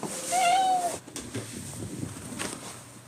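A single clear cat meow, close and fairly loud, followed by faint rustling and quiet room noise.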